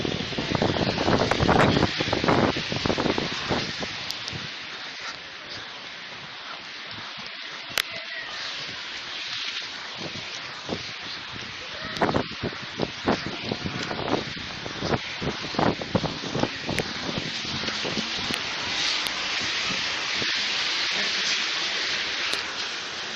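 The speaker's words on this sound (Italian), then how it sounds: "Sotto la pioggia ragazzi non si può vedere." Steady rain and gusting wind outdoors in a thunderstorm, a constant broadband wash with wind buffeting the microphone, loud and close throughout, with scattered sharp drop hits and no speech.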